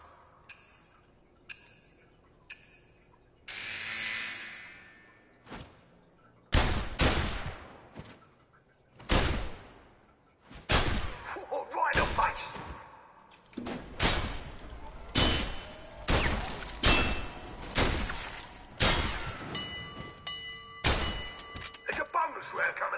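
Target-shooting gunfire in PlayStation VR Worlds, sharp loud shots in irregular bursts after a few quieter ticks, with a person talking between the shots.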